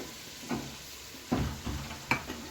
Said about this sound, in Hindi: नाज़रीन, हमारा मसाला जो है वो अच्छी तरह से भून रहा है